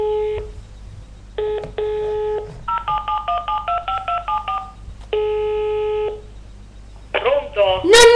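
Telephone keypad dialing tones for a prank call: long steady tone bursts alternate with a quick run of short, evenly paced beeps, clear and close, ending in a brief burst of busier voice-like sound.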